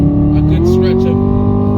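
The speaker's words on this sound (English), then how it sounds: "Supercharger whine in full effect." A Chevrolet Camaro ZL1 accelerating hard with a rising high-pitched supercharger whine over the engine drone, up close and loud.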